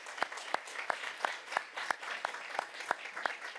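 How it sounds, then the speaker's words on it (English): A small audience applauds a jazz choir at a school board meeting, sparse, evenly paced claps from a few people in a room, each clap distinct. "Just a round of applause for Miss Orlando and the Jazz Choir as they walk out."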